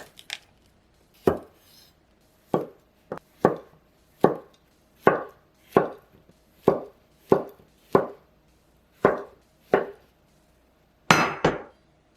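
A knife chops zucchini on a cutting board: about a dozen crisp, close strikes in a loose, unhurried rhythm, with short silences between them and no talking.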